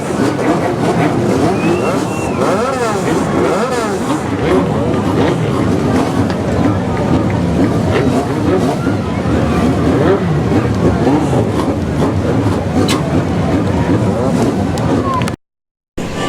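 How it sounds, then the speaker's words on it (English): A field of US Legend race cars fires up together at Riverhead Raceway, a loud dense roar of idling and revving engines running throughout, cutting off briefly near the end. "Start your engine. The Hiscock family fires up the field."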